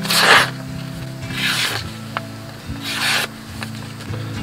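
A Boker Elk Hunter camping knife blade scraping and shaving wood in several rasping strokes, each a short rough swish, close up with a low hum underneath.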